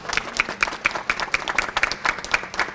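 Guests at a salon's opening clap together in a loud, rhythmic, unison beat, roughly four claps per second, close by with a little crowd murmur.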